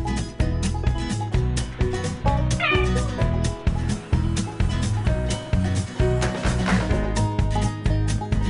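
A cat meows repeatedly, close and loud, in a rhythmic series of insistent calls, with a dog sharing the space.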